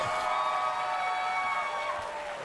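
A large crowd at a NASA event releasing space telescope images gives a broad, sustained roar of cheering, steady and fairly distant, with a faint tonal hum running underneath.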